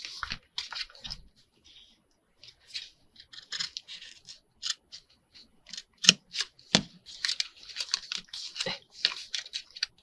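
Scissors cut through 12x12 patterned paper for a handmade journal cover, short snips and rustling paper in uneven bursts, close and crisp, with brief pauses between cuts.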